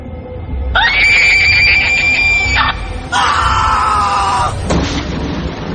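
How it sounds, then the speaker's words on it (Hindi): An old woman screams loudly as a horror-story effect: two long, shrill, wavering cries, the first held for about two seconds and the second following after a brief break, over a constant noisy background. "वही बूढ़ी औरत रजत की आंखों से सिर्फ 2 इंच की दूरी से उसे देखकर जोर से चीखी।"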